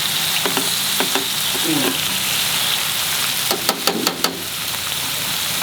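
Chicken cafreal frying in a pan, a steady loud sizzle throughout with a few scraping stirs and clinks near the end.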